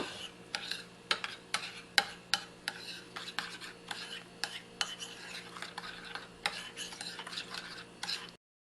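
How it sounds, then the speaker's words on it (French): A utensil stirs brown sugar and dry mustard into a mixture in a bowl, giving repeated close scraping clinks in an irregular rhythm, fairly quiet and with no talk. "Et je vais juste venir brasser."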